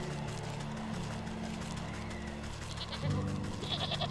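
Mountain goat bleats in the video game Wytchwood, several short nasal calls rising late over a steady layered game soundtrack, moderately loud and close.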